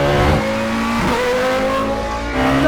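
A McLaren Solus GT single-seat hypercar with an 858bhp V10 accelerates hard on a track, its loud, close engine note rising in pitch through gear changes.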